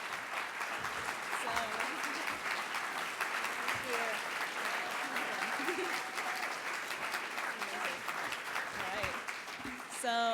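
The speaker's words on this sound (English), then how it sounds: "So let's give her another one more round of applause." An audience at an Engineers Week 2017 reception applauds after a presentation. The clapping is loud and sustained for the whole stretch, with a few voices faintly audible beneath it.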